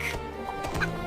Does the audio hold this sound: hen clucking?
yes